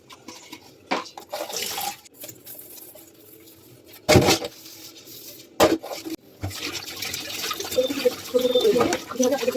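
Tap water runs while dishes are washed in a sink, a continuous splashing stream with sharp clatters and clunks of utensils knocking together at intervals.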